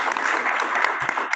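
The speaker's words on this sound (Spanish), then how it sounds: "Les damos la bienvenida, un fuerte aplauso." Audience applause welcoming panelists at a Spanish-language book launch event, a steady dense wash of many hands clapping throughout, fairly loud and even with no talk over it.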